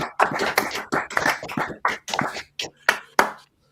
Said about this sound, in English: I would just want everybody to give this man a round of applause